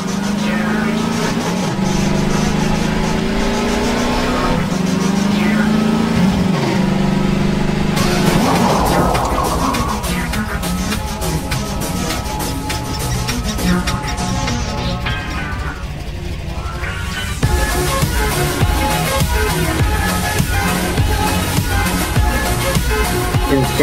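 A car drifting in a 90s-style scene, its engine revving and wailing in long rising and falling sweeps with mechanical clatter and a sudden shift midway, loud and continuous throughout.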